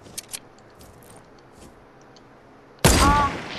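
A rocket launcher fires in a video game with a sudden loud blast at the end, after a quiet stretch with a few faint clicks.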